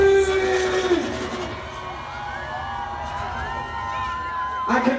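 A live concert crowd at an OUT in South performance screams and cheers in a sustained, loud wash of voices, with shrill rising whoops and yells cutting through the steady roar.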